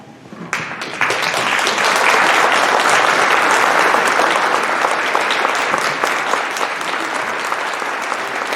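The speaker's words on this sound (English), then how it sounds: "So if you can hold your applause" A large crowd at an outdoor national service park launch in Minnesota breaks into loud, dense applause for standing military veterans, building quickly and holding steady for several seconds.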